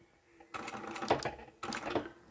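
A sewing machine stitches fabric for a Christmas quilted patchwork table runner, running in two short bursts with a brief pause as it starts and backstitches, close and fairly quiet.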